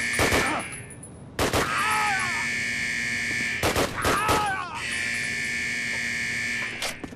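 MP40 submachine gun fired in Call of Duty, short sharp bursts of gunfire in a few clusters over a steady ringing electronic tone, with brief rattling echoes between volleys.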